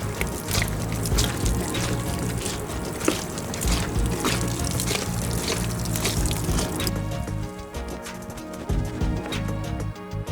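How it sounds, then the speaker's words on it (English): Water splashes and trickles onto dirty rubber floor mats from a Toyota Fortuner in a continuous, fairly loud pour up close, easing slightly toward the end, with no voices. "Pour water."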